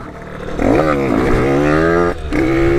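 Derbi MRT motorcycle engine, still being broken in, revving hard and steady through a clutchless wheelie, a loud close rising two-stroke note that drops off briefly near the end before picking back up.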